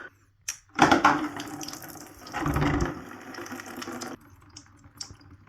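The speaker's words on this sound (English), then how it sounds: "we want something here to collect all of the water that, the coolant that drains out" Coolant running out of the drain plug of a Yamaha WR125R motorcycle into a collecting container, a steady close splashing flow with a louder surge early on before easing to a lighter trickle.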